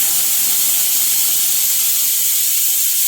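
A kitchen pressure cooker holding jackfruit vents steam through its whistle as a continuous loud, bright hiss that stays steady from start to finish, with no talking.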